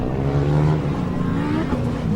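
A Formula Student race car speeds across the finish line during an endurance final, its engine note loud and close, rising and shifting over a couple of seconds with no talking.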